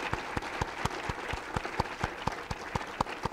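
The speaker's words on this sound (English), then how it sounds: "let's give the Brown Foundation one more and one final round of applause" Applause from a lecture audience at an art history talk, a steady run of distinct, evenly paced claps, fairly quiet and sparse, with no voices over it.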